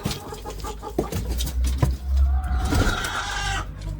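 Nearby chickens cluck and squawk in short, irregular bursts, with a few louder calls standing out in a rural yard.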